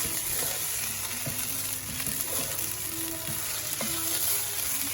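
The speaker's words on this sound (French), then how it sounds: "Je vais tourner un peu le riz avec les choux." Rice and cabbage stirred in a hot pan, a steady frying sizzle throughout with the scrape and clack of a utensil against the pan at irregular moments, close and moderately loud.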